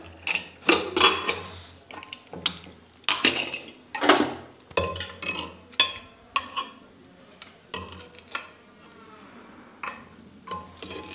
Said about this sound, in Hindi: अब देखिए कुकर को खोल देते हैं